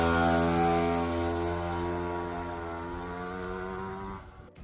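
Petrol engine of a classic pop moped fitted with a hybrid conversion kit, idling with a steady buzzing drone rich in harmonics, close and alone, before cutting off abruptly near the end.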